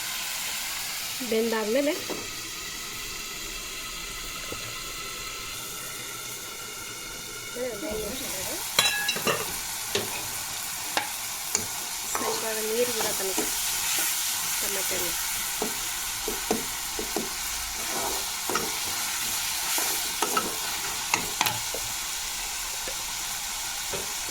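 Oil sizzling and spluttering in a pan as a North Karnataka-style tempering (oggarane) for churumuri is fried and stirred, with intermittent scraping stirs over a steady hiss and quiet background voices.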